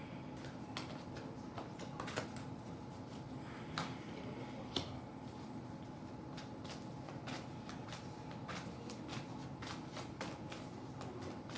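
Tarot cards riffled and shuffled close by in a steady run of crisp paper flutters and sharp card snaps, repeating throughout with no one talking.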